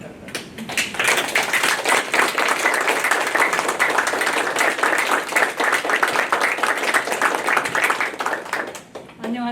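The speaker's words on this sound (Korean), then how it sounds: "나오실 때 큰 박수 부탁드리겠습니다" Lecture audience applauding to welcome a speaker at a forum talk on Goethe and Schiller, sustained rhythmic clapping with distinct individual claps, fairly close and steady until a brief drop at the end.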